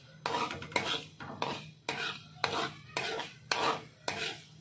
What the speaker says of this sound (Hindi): साथ साथ में हम इसे हिलाते भी रहेंगे गाइस।